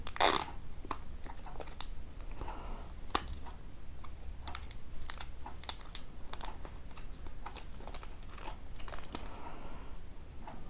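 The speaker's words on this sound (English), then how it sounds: "Let's unwrap this up" Apple AirPods 2 packaging being unwrapped and handled, giving a steady run of sharp clicks, crinkles and taps close to the microphone, with no talk.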